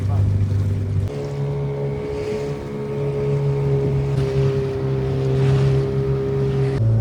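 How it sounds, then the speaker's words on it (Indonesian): A boat engine runs steadily through the night at sea off Supiori, Papua, a loud, constant droning hum with strong low tones, mixed with wind and water noise, after a brief dip in pitch near the start. "mesin kapal pun mulai dinyalakan. Suara mesin memecah kesunyian malam,"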